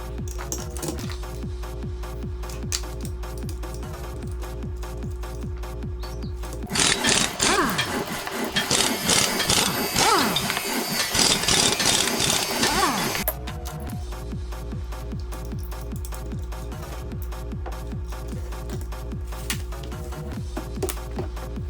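A knife is stropped on a Wicked Edge sharpener in sped-up footage, making steady rapid rubbing strokes that grow louder and harsher through the middle stretch before settling back.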